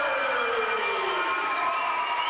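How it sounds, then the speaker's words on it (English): Spectators at a 2016 girls basketball game between Pine View and Union roar and cheer loudly in a gym, a sustained, dense crowd noise with a shrill whistle-like tone rising through it. "listen to the crowd"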